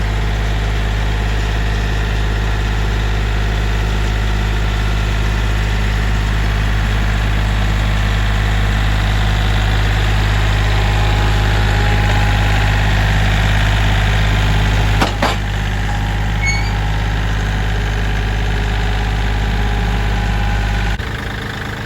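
A heavy engine idles steadily with a deep low rumble and constant vibration, close and loud, shifting slightly in tone partway through.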